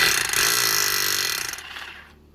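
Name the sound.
hammer drill drilling into concrete for anchor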